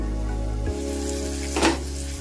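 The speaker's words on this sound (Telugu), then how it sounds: "ఇలా అన్నీ వేగిన తర్వాత ఇలా కొద్దిగా టమాటా మగ్గనివ్వాలి" Tomatoes with turmeric and salt fry in a pan, a steady close sizzle with a low hum underneath and a brief louder flare of crackling near the end.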